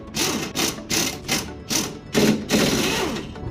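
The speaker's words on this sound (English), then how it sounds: "To remove the front sway bar links, you will need a 17mm socket to be able to remove them." A 17mm socket on a ratchet works loose the front sway bar links: six or seven loud, close bursts of rapid clicking ratcheting, separated by short pauses, with no talking.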